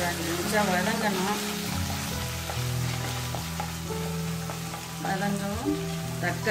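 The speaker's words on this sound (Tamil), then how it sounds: "வெங்காயம் நல்லா ஒரு 5 நிமிஷம் வதங்கணும்." Onions sauté in hot oil in a pan for mushroom biryani, giving a steady, moderately loud sizzle with occasional stirring scrapes, while a person talks over it.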